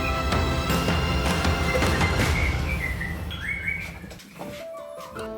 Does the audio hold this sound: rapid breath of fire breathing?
no